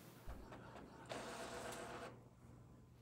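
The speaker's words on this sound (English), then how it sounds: "Click print, then click print again to send the file to the printer." A wide-format printer prints an image onto rigid media for an award plaque, its mechanism whirring and buzzing with short clicks and a sustained carriage pass, quiet and close.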